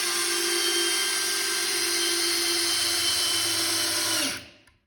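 A Metabo Powermaxx 12V drill/driver drives a cabinetry screw into wood, a loud steady high motor whine held for about four seconds before it winds down and stops.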